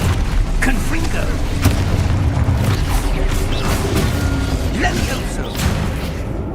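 Confringo fire spell blasts in Hogwarts Legacy combat, a run of sharp booming impacts and crackling bursts fired in quick succession amid other spell effects, loud and close throughout.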